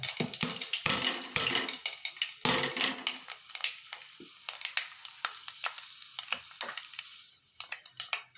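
Mustard seeds, urad dal, fenugreek and fennel seeds frying in hot oil crackle and sizzle loudly at first, then thin out into scattered sharp pops and spits.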